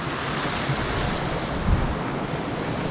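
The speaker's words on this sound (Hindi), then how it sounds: "पानी का स्रोत है, आप लोग पानी पी सकते हैं यहाँ से" Water from a mountain stream flows steadily beside a trekking trail near a bridge on the Roopkund trek, a continuous broadband rush with wind buffeting the microphone and one brief low thump.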